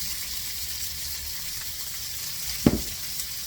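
Fennel hitting shimmering hot oil in a pan, a faint steady sizzle with a short sharp burst of crackle near the end as it settles.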